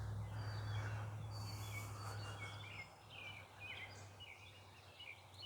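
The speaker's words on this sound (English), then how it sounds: "A lot of bird song this morning." Birds sing in a city garden on a morning after a storm, with scattered high chirps and short calls at a moderate distance over a steady low hum of background noise.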